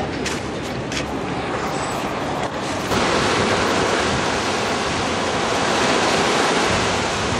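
Sea waves washing ashore along the seafront promenade at Sousse, Tunisia, in autumn, a steady broad roar of surf with wind buffeting the microphone, growing louder partway through and continuing without any talk.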